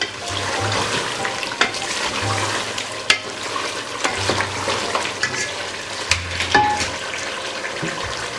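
Beef coated in yogurt masala fries over high heat for a beef biryani, giving a steady loud sizzle with occasional stirring scrapes and clatters throughout.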